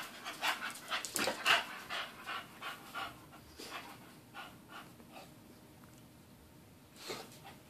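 A dog pants rapidly and rhythmically while running on a doggy treadmill, close and fairly quiet, the quick breaths steady then slightly easing, with no talking.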